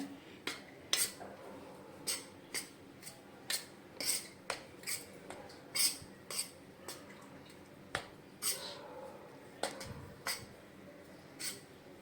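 Semolina, gram flour and salt being stirred together in a bowl with a spoon, giving a series of sharp scraping clicks and taps at an uneven rhythm, close by, with no talk.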